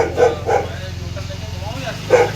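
A pet dog barks at home as its owner arrives, a few sharp barks near the start and another at the end, with a voice talking over steady background hum.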